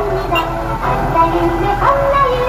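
A Doraemon-tune reverse horn fitted to a vehicle plays its electronic melody, a loud nearby chain of tonal beeps in a repeating pattern over a low engine hum.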